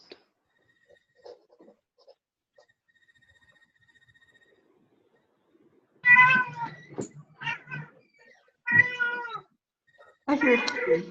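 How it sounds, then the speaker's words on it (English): A cat meows several times in a row, close and clear: drawn-out, wavering cries that grow louder and more insistent after a near-silent stretch with faint scattered noises. "I hear a kitty. I hear a kitty."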